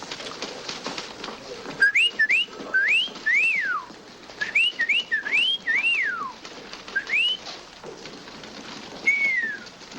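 A person whistles an imitation of a bird calling from a tree, a string of short rising and falling whistled notes in irregular bursts, fairly close, over a soft hiss like steady rain.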